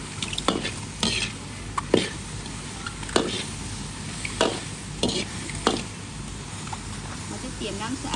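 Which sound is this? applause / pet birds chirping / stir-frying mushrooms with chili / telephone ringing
stir-frying mushrooms with chili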